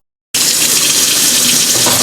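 Cold tap water gushes steadily and loudly from a faucet over cooked quinoa, starting abruptly after a brief silence and running without a break.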